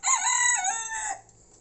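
A rooster in a backyard poultry flock crows once, a loud, close, drawn-out call lasting about a second before fading into quiet.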